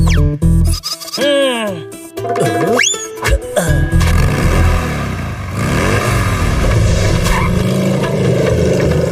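A motorcycle with a sidecar that struggles to start; after some quick sliding voice-like sounds and talk, a loud, steady engine roar takes over and fills the rest of the clip.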